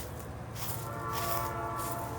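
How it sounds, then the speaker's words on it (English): A freight train starting up a hill at a street crossing, heard as a loud, steady rumble of locomotive and rolling cars with rail hiss and a sustained horn-like tone, close by and without talk. "here comes the train. Getting ready to come up this hill."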